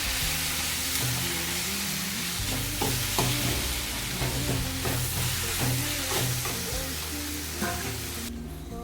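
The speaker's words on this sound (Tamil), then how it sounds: "வெங்காயம் தக்காளி நல்லா வதங்கிடுச்சு." Onions and tomatoes with ginger garlic paste sauté in a pan for chickpea masala curry, giving a steady loud sizzle with repeated scraping stirs throughout, close up and without speech.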